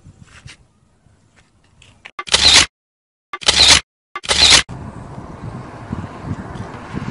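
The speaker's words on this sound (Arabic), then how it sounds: "تعال خلينا ناخذ لنا صورة" Three sharp camera shutter clicks go off close up in a quick, uneven sequence, followed by steady background hiss and murmur.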